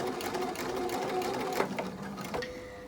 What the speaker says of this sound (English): So I'll continue stitching close to the edge